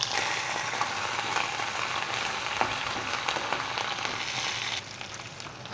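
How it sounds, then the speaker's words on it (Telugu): Curry leaves frying in oil for an egg cabbage fry, a continuous crackling sizzle with small pops, fairly quiet, easing slightly near the end, no voices. "ఆ తర్వాత కరివేపాకు కూడా వేయాలండి. ఇది కొంచెం ఫ్రై చేసుకోవాలండి."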